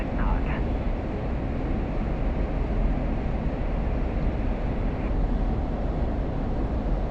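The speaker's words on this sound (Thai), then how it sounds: "ผมก็พยายามจะ เร่งความเร็วของเครื่องบินให้ เร็วที่สุดนะครับ" A loud, steady roar from the F-16C fighter jet in DCS World accelerating hard continues unbroken throughout, filled with deep low rumble.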